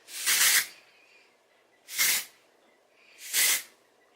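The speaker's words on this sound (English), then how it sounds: "it's just a spray" Three short bursts of aerosol spray, each a soft broadband hiss about a second apart, close by, with quiet pauses between them.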